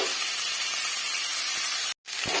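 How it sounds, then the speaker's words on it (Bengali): Cauliflower samosa filling fries in a pan with a steady, even hiss and sizzle, close and continuous, briefly cut off near the end before resuming. "আমি ভেজে দিচ্ছি।"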